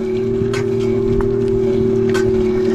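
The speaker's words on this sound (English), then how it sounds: "The motor got a little bit louder than usual" Electric Bike Company Model J hub motor running a little louder than usual, a steady tonal whine with a constant hum beneath, plus light wind noise on the microphone throughout.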